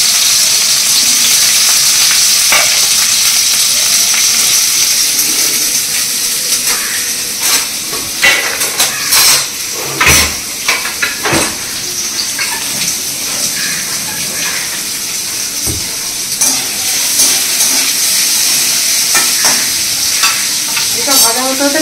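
Onion and cashew nuts frying in hot oil as the base for a chicken kofta curry masala, a loud steady sizzle and hiss close up, broken by occasional stirring knocks and scrapes.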